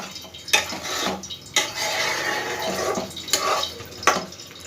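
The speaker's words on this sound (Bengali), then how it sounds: "এবার আমি মশলা করে ধুয়ে রাখা যে জলটা সেটা আমি দিয়ে দিচ্ছি" Spice-rinsing water poured into a pan of potol posto, a Bengali pointed-gourd and poppy-seed dish, splashing and sizzling loudly with several clattering utensil knocks and stirring scrapes.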